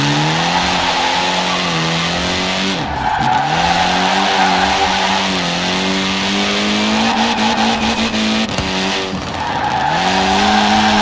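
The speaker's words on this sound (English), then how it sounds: "Now let's really shred those tires." Sustained, loud tire squeal from a car drifting in the Forza Horizon 4 racing game, with wavering engine revs rising and falling through the slides and brief dips between them.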